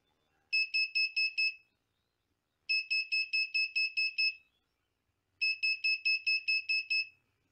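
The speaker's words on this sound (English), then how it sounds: "If our car goes near any obstacle, then the buzzer will start" Three bursts of rapid electronic beeping from a short-distance obstacle alarm buzzer, each a quick run of five to eight shrill pulses, separated by short silences; clear and close.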